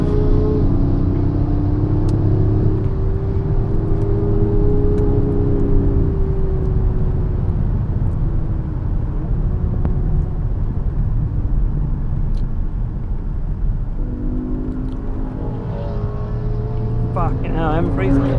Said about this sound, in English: GT3 RS is about to absolutely demolish us